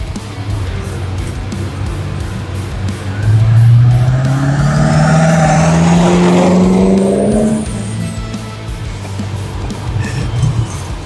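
A Chevrolet C-10 truck engine roars past close by, rising to a loud peak mid-clip and fading away, with steady road noise throughout.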